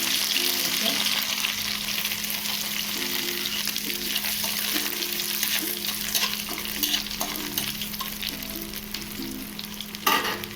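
Crushed ginger and chilli sizzle steadily in hot oil, a continuous close frying hiss with faint stirring clatter throughout and a brief louder crackle near the end.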